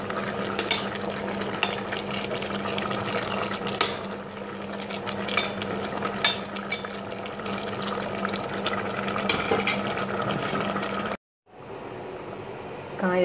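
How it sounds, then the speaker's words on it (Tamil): Vegetable sambar curry boiling in a pot, a continuous bubbling and simmering wash with scattered small clicks and taps of a utensil against the pot, close by and without speech, briefly cutting out near the end. "குழம்பு நல்லா கொதிக்க ஆரம்பிச்சிடுச்சு."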